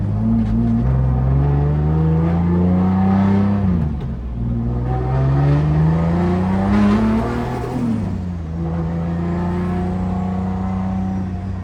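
BMW E30 drift car with a turbocharged M50 engine driving on the road, its engine note rising and falling through gear changes as it accelerates, loud and steady from inside the car with no speech.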